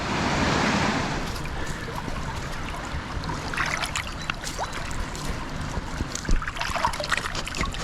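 Water from a river running down a cascade of small waterfalls on a Dartmoor walk near Haytor and Houndtor, a steady close rushing and trickling with a louder splashy burst at the start.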